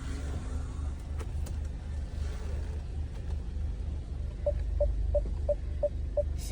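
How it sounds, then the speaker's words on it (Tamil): A car reverses with a low engine rumble, then a parking sensor sounds a steady run of evenly spaced short beeps, close and clear over the motor. "இப்போ கார் பின்னாடி போகுது."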